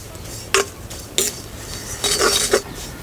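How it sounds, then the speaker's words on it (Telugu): Dry prawn shells roast over a low flame in a pan and get stirred, giving a few sharp, close scraping clinks spaced irregularly over a quiet background, with no talking. "ఈ రొయ్య పొట్టుని దోరగా వేయించుకోవాలండి. సన్న మంట మీద వేయించుకుంటే మంచి సువాసన వస్తుందండి."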